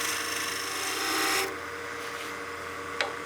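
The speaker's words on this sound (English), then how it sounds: "we're just gonna be turning the body and the head out of the one piece at this time" A wooden German smoker body and head are shaped from one piece on a lathe, the gouge rasping steadily against the spinning wood, then the cut stops, leaving a quieter hum with a brief tick near the end.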